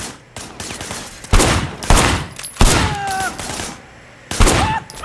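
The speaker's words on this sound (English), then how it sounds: "Shooting at the guys over there." Gunfire in the video game Sleeping Dogs, with loud bursts of shots arriving in several separate volleys and short quieter gaps between them, all near and sharp, over game background sound.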